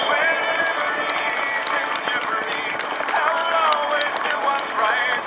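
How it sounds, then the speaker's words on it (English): An audience applauds military service members, a bright, busy burst of many hands clapping at once, fairly loud and sustained without pause. "please join in as we give those men and women here today a hearty round of applause"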